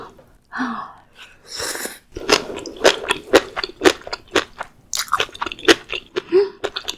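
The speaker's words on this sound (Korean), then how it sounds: "우선 쭈꾸미를 먼저 먹어보도록 할게요" Spicy webfoot octopus with beef intestines being chewed close up, a run of wet crunchy bites and smacking chews with short gaps, heard alone without talking.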